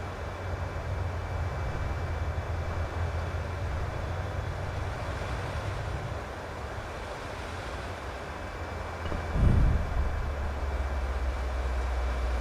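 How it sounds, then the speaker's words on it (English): Airliner engines during descent in Microsoft Flight Simulator 2020, a PMDG 737 from Constantine to Basel, heard as a steady broadband roar with a low hum and a brief louder surge near the end. "You can hear the engines and also the plane that is going down"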